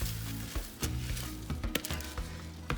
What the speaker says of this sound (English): now we're going to add 2 cups of washed jasmine rice to this mixture